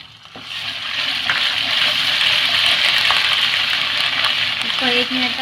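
Ginger garlic paste fries in hot oil, giving a loud, steady, close sizzle that swells after a brief start and holds with soft stirring scrapes throughout.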